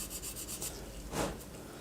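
Short scratchy rubbing strokes repeat at a quick pace as a resin Mazda RX-7 model kit is sanded, with one louder, harsher rasp near the end, close and fairly quiet.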